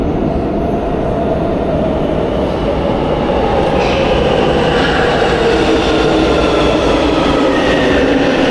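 Metro subway train running at a steady, loud rumble throughout, with broadband rail and wheel noise and faint high squeals building toward the end, no voices.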